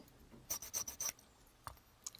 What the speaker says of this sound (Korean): 손톱깎이요 이 끝부분을 갈아지는지